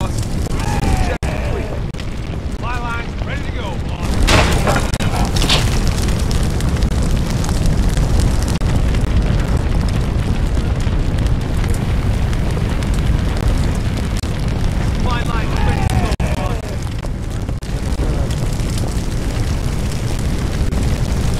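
A large fire burns in the Firefighting Simulator: The Squad game, giving a loud, steady roar with deep booming rumbles through the whole stretch, and short voice-like sounds show up faintly over it now and then.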